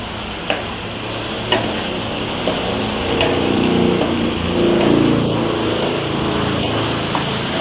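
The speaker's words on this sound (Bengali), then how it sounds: "ভালো করে ভাজবো পেঁয়াজের কালারটা চেঞ্জ না হওয়া পর্যন্ত" Crushed onion and garlic fry in a pan, with a continuous close sizzle and a few sharp stirring knocks over a low steady hum, with no speech.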